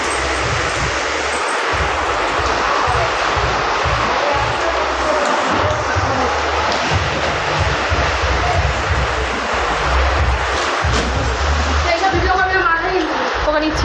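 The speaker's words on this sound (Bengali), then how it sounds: "আজকে মুষলধারে বৃষ্টি আরম্ভ হয়ে গেছে" A torrential rain downpour roars loudly and constantly like a wide wash of noise, while people talk over it.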